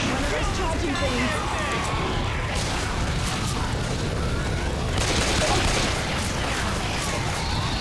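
A grenade blast and sustained gunfire fill a Left 4 Dead 2 firefight with dense, loud, continuous bursts and booms that barely let up, while a player speaks over the noise.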